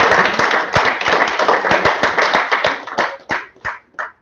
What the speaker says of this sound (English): But let's clap again.